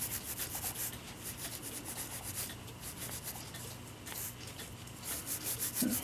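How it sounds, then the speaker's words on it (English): A brush loaded with cleaning compound scrubs grime out of a Seth Thomas mantel clock, making a steady rhythmic rubbing and scratching close by, continuous strokes with slight surges. "Just use that brush, a little compound on it, get in there and get all that gook out of there."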